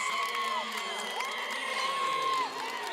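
A girls' basketball finals crowd in a gym roars and cheers steadily after a made basket, with sustained shouting and whoops throughout and a loud, dense wash of voices.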